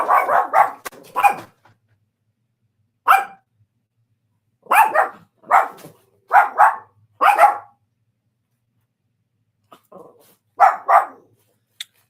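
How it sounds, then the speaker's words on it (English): Dogs barking at the door, close and loud, in short clustered bursts of two or three barks separated by pauses over several seconds. "Y'all have to pay attention to when these dogs bark."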